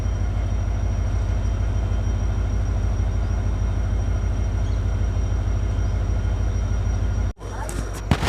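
Indian Railways train 09565 hauled by a Sabarmati-based WDP 4D diesel locomotive, a steady loud rumble of running wheels and engine filling the clip, broken by a sharp dropout near the end before the noise resumes.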